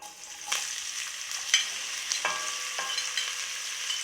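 Chopped onion sizzling in hot extra virgin olive oil for sautéed buljol, a steady bright hiss with a few sharper crackles and stirring knocks, close up and continuous with no talking.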